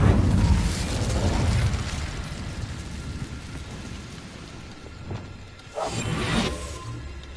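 The Incendio fire spell is cast in Hogwarts Legacy, producing a loud, roaring whoosh of flame that rumbles and fades, followed by a second brighter burst near the end.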